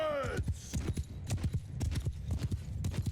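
Galloping hooves of horse archers in the medieval battle game Mount & Blade II: Bannerlord, a quick rhythmic clip-clop of many horses close by, with faint battle noise behind.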